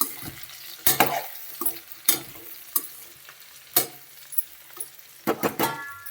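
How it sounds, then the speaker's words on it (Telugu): Bitter gourd stir-fries in a pan under repeated stirring: sharp scrapes and clattering bursts of the spatula rise out of a quieter sizzle, coming in irregular strokes. "కాకరకాయ దీనికి మనం తిప్పుతానే ఉండాలి, మాడిపోతుంది కింద"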